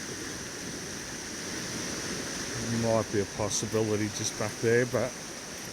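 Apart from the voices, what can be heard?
fast-flowing water in raging creek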